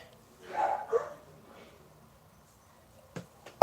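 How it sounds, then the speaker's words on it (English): Two dogs let out a couple of short, muffled barks indoors at moderate distance, followed by silence and a few faint knocks, with a sudden loud burst cutting in right at the end. "Crazy dogs, I swear."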